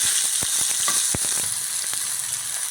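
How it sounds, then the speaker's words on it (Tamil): A tomato sautés in hot oil in a rasam pot, giving a loud, steady close sizzle with a few light scrapes of a stirring spoon. "அதே பாத்திரத்தில் ஒரு தக்காளி அதை கொஞ்சம் நல்லா வதக்கிடுறேன்"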